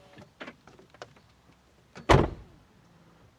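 A £60,000 Tesla Model 3 Performance door swings shut in one heavy, close thud, after several light clicks and taps as the door is handled.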